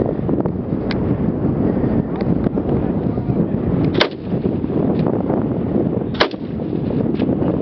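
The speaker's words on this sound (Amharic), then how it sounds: "ተኩስ" Gunfire rings out outdoors, several sharp shots spaced a few seconds apart over a constant wind rush.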